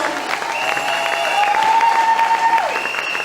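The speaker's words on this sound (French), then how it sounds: "Applaudiamo" An audience claps steadily and loudly at a live church event, a continuous dense wash of applause lasting throughout, with a sustained tone or voice ringing above it.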